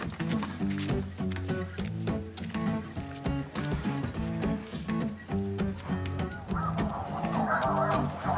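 A flock of geese honking repeatedly during a goose hunt, with overlapping calls in a dense, continuous chorus that sounds fairly near.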